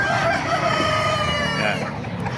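A hen at an outdoor pet market in Baliuag gives a few close, loud clucking and crowing calls over a busy background of market bustle.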